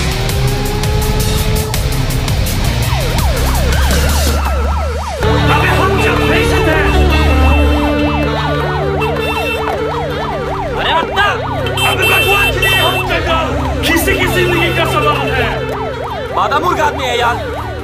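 A loud wailing ambulance siren cycles continuously up and down, close by, with a second siren tone joining partway through over traffic noise.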